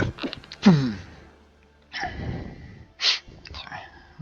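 A single sharp human sneeze near the start, followed by breathy sniffs and quiet mumbled voice sounds up close.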